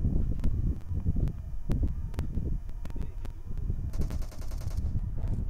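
Gunfire in the video game PUBG: repeated sharp shots crack out in irregular bursts, followed by a rapid automatic volley, all over a low rumbling background with no talking.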